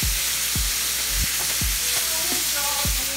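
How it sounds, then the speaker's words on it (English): Onions fry in butter in a pan at medium heat, a loud constant sizzle with a few dull thumps and light scraping at regular intervals. "Add some more onions."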